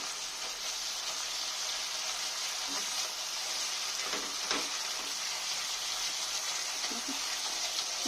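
Eggplant sautéing with spices in a pan for a yogurt-eggplant (doi begun) curry: a steady, soft sizzle that runs throughout with a few faint stirring clinks.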